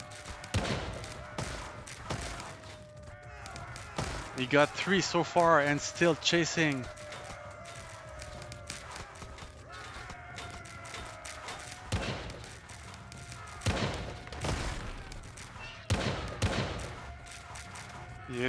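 Hand cannons and other siege weapons fire during a castle siege in a real-time strategy video game, with bursts of booming, crackling volleys and thuds under steady spoken commentary.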